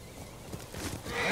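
A horse whinnies in a rising, drawn-out neigh in the video game Ghost of Tsushima, fairly faint, building toward the end of the brief moment.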